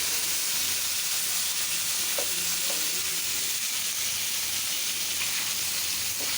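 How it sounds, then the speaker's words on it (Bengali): Fish frying in hot oil gives a dense, unbroken sizzle and hiss close to the pan, steady and loud throughout, with faint stirring clicks and no voices. "একটু মাছ ভাজা দিলে তরকারির টেস্টটা আলাদা রকম হয়"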